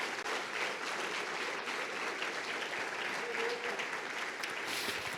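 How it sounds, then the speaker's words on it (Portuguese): Steady applause from a church congregation during an online worship service, continuous and fairly distant, with a faint voice speaking underneath. "Aí aplaudir, aplauda forte."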